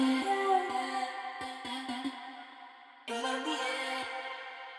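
Processed vocal samples treated with delay, flanger and chorus effects, a pitched, harmonically rich voice phrase chopped into short repeated notes with smeared, swirling echoes, pausing briefly before resuming.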